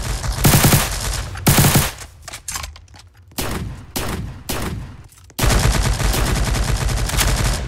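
Loud bursts of automatic gunfire from a shooter video game, near and heavy, with short gaps of scattered shots between long sustained volleys.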